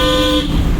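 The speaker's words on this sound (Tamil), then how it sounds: "ஹாரன் அடிச்சிருக்கோம்" Car horn honked during a driving lesson, a single loud sustained toot heard from inside the car that cuts off midway, followed by engine and cabin noise.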